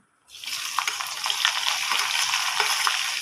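Cumin seeds and onion sizzling in hot oil for a mixed cauliflower and chana dal vegetable dish, a steady close crackling fry that starts abruptly and holds loud throughout with occasional sharper pops, no voices.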